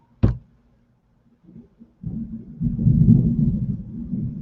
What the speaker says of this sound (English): There's a rumbling and a thundering.